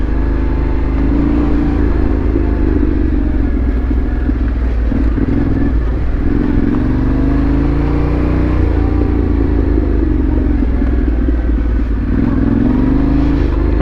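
A motorcycle ridden ahead along a narrow overgrown country lane, its engine droning steadily and loudly as it rises and falls slightly in pitch, blended with rushing wind noise from following close behind.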